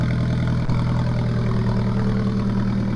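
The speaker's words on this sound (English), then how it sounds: "Now that's a cold start. She sounds good." A stock Alfa Romeo 4C idles steadily after a cold start on a chilly 45-degree day, a close, loud, even engine drone with a deep low rumble that holds without change.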